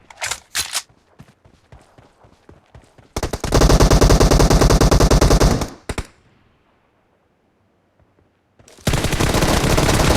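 Automatic gunfire in the mobile shooter PUBG Mobile, team deathmatch: scattered single shots, then a long loud sustained burst, a pause, and another heavy burst at the end.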